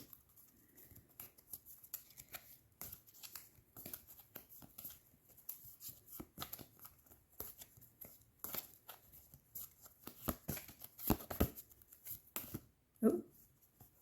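A pile of tarot cards is shuffled by hand in repeated soft riffling bursts, close and quiet, with faint murmuring voices underneath.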